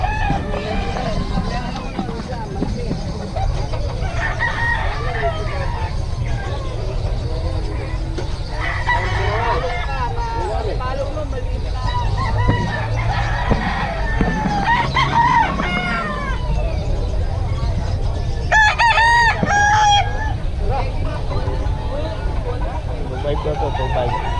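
Chickens cluck and a rooster crows repeatedly amid a busy outdoor crowd murmur at a chicken-selling spot, with people chatting nearby throughout.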